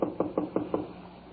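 Five evenly spaced knocks on the door of a small redwood house in a 1950s radio crime drama, close and firm, each a dull hollow rap with no voices over them.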